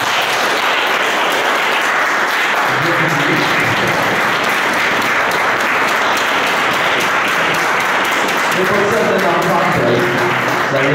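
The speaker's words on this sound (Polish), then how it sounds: "Klaskanie." An audience at a jazz concert in the BWA gallery in Olkusz claps loudly and steadily for several seconds, a dense wash of applause with voices mixed in.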